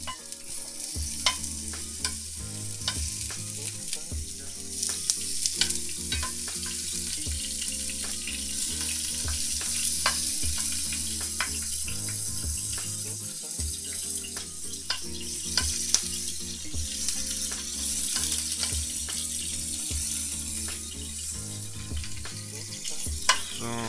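Beef pieces for stroganoff sizzle steadily in a hot pan, a continuous frying hiss over about twenty-four seconds with occasional stirring, set against a repeating low music bed and no talking.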